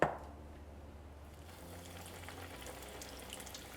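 Spoonfuls of apple fritter batter dropped into hot oil, starting with a soft plop, then a steady, fairly quiet, even sizzling hiss that continues alone.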